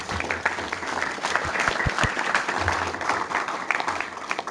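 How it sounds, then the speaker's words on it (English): A Toastmasters district anniversary audience gives a warm round of applause for Kevin Broughton, many hands clapping steadily and close at an even level throughout, with no speech. "So let's give a warm round of applause to Kevin Broughton."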